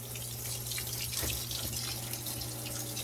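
Water sprays steadily into a new 75-gallon aquarium tank, a continuous hissing splash with a low hum underneath, close and even throughout.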